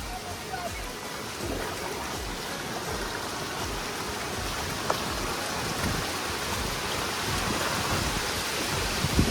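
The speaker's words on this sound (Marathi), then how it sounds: "पाऊस जोरेन चालू आहे." Heavy rain pours down beside a rising, flooding river, a dense steady hiss of drops and rushing water that stays even throughout, with a couple of faint taps near the end.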